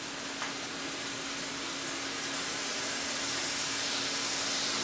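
Ground beef frying in a pan for chili, seasoned with cumin, giving a steady, close sizzling hiss that holds at an even level throughout, with no voices.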